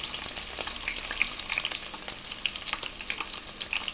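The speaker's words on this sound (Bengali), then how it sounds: "এর মধ্যে দিয়ে দিব পেঁয়াজ কুচি পরিমাণ অনুযায়ী, দিয়ে দিলাম কাঁচামরিচ ফালি করে।" Chopped onion and sliced green chili fry in hot oil with a continuous close crackling sizzle, dotted with small pops and stirring scrapes, and nobody speaks.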